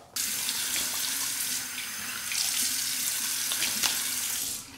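Tap water runs steadily into a sink while someone rinses off after a shave, a close, continuous splashing hiss that starts abruptly and stops at the end, with no talking.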